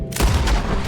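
A gunshot in the video game Red Dead Redemption 2 gives one loud, close boom with a heavy low-end body that rings out briefly, with no talk over it.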